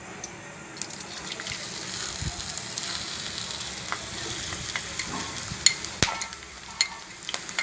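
Two large chopped onions frying in hot oil for Hyderabadi masala chicken, a steady close sizzle with scattered sharp crackles and small scraping stirs throughout.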